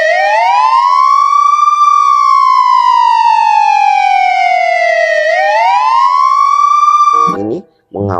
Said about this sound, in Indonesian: Selanjutnya, wih, kita menemukan ada mobil patwal polisi.